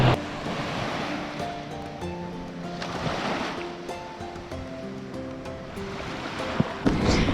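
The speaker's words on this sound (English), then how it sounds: "We made it to the beach." Waves wash and surge onto a beach on Catalina Island in repeated swells, with wind buffeting the microphone and no one speaking.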